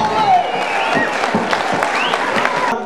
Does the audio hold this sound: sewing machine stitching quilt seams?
no